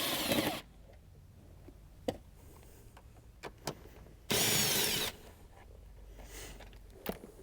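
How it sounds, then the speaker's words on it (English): Power nut driver removing the factory airbox bolts on a 2015-17 Corvette Z06, sounding as two short, loud whirring bursts up close, separated by quiet clicks and handling noises. "Using a 10mm socket or nut driver, remove the 2 bolts holding the factory airbox to the inner fender well."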